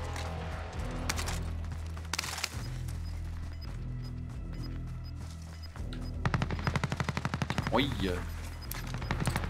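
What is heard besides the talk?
machine gun fire in Call of Duty: Warzone video game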